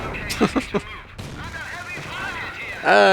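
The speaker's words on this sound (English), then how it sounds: "What are you shooting at me with? An M8?" Gunfire in a Company of Heroes battle: three quick sharp shots near the start, then a steady rumble of combat noise, with a voice rising over it at the very end.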